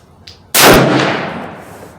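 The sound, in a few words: rifle gunshot at a target 50 yards away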